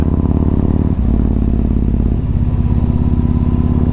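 Yamaha MT-01 motorcycle riding along narrow country roads, its big engine thumping loudly and steadily close up, with a brief dip in the drone as the throttle shifts, no talk.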